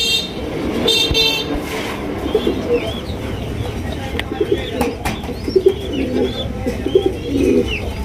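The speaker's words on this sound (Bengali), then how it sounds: "টেল মার্ক কবুতর, ব্ল্যাক টেল মার্ক।" Black tail mark pigeons coo repeatedly at close range on a crowded pigeon farm, soft throaty calls rising over a steady murmur of birds, with a few distant car horns and faint voices.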